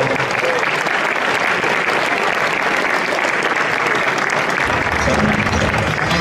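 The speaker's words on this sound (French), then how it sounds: "on les applaudit encore, encore et encore." Sustained applause from an audience at a local sports awards ceremony, thick and continuous clapping from many people that holds at an even, loud level throughout.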